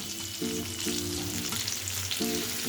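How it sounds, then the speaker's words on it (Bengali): Sliced onions frying in a pan give a dense, continuous sizzle that holds steady throughout, with faint tonal hum in the background and no talking. "অল্প কিছু সময় ওগুলোকে ভেজে নেবার পর আমি স্লাইস করে কেটে রাখা পেঁয়াজটাকে অ্যাড করে দিলাম"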